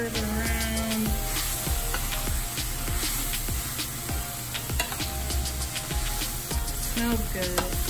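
Samosa filling sizzles in a pan over medium heat, a steady frying hiss broken by repeated scraping and clacking strokes as it is stirred, close and fairly loud.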